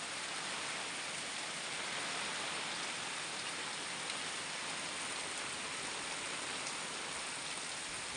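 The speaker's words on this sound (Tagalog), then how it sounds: "Kay sige ang ulan." Heavy rain pours down in a dense, even hiss, constant and enveloping throughout with no voices.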